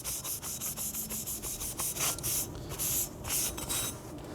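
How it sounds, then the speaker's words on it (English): A new Elegoo Saturn resin printer build plate is rubbed clean by hand, producing a quick series of close, rhythmic scrubbing strokes, about three per second, with no other sound. "First, this is a new bed, so I'm going to clean this to remove any manufacturing oils."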